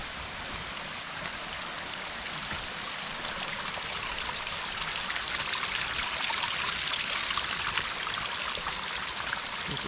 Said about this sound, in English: There's a small tributary running down here.